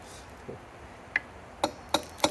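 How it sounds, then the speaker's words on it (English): Three sharp metallic hammer strikes ring out in quick succession near the end, preceded by a lighter tap, over quiet background noise. "using a hammer as a tool."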